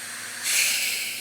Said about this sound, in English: Now I've got a pneumatic gun here, which will force sealer right down into the corners